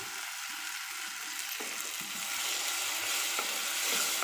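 A paste of raw ground tomato sautés in a pan for sweet corn gravy, making a steady soft sizzle and bubbling hiss with occasional light stirring scrapes, close and unaccompanied by voices.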